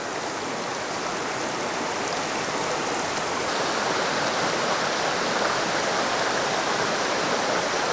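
A river in the Costa Rican jungle rushes over rocks in a dense, steady roar of water that swells slightly louder partway through, close and continuous, with no voices.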